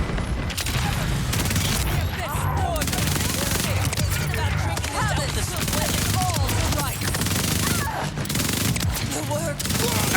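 Bursts of rapid SMG fire in Borderlands 4, crackling volleys that stop and start in clusters over a busy game mix, loud and up close.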